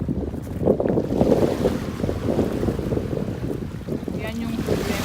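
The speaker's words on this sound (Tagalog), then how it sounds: "medyo malakas ang alon." Choppy, strong waves slap along the flooded St. Lawrence River in Quebec, churning roughly with heavy wind buffeting the microphone throughout.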